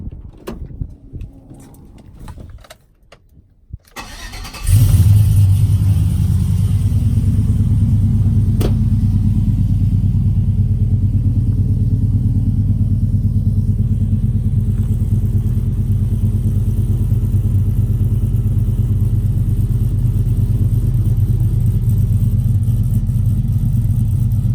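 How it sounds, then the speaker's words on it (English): A 2008 Chevrolet Silverado engine cold-starts after a few seconds of quiet, catching abruptly and settling into a loud, steady, deep idle rumble that holds for the rest of the clip. "so I'm about to do a little cold start"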